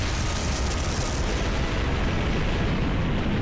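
Gawain's attack blasting the main gate in Fate/Grand Order erupts as a broad, roaring explosion, a steady wash of rumble and hiss that holds for several seconds at moderate level with no voices.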